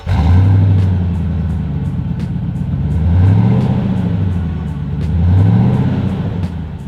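A 2020 Toyota Land Cruiser with a Gibson Elite exhaust idles loud and close, its throaty engine swelling in three slow revs and settling back each time, with no talk.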